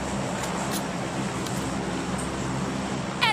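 A car drives past on the left in a multiplayer shooter video game, heard as a steady broadband road rumble that holds for a few seconds with a brief louder swell at the end.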